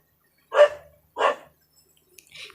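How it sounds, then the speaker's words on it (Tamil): A street dog barks twice nearby, two loud separate barks about half a second apart, followed by a fainter third sound. "கொஞ்சம் இந்த நாய் கொஞ்சம் குலைச்சிக்கிட்டு இருக்கு"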